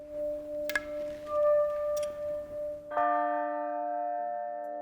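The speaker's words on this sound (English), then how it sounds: "The Grasmeyer bells are tapped in all areas of their form to ensure they are in perfect tune." A large cast bronze tower bell is tapped for tuning, giving two sharp metallic strikes followed by long, steady ringing tones that sustain and slowly fade, close and clear with no talking.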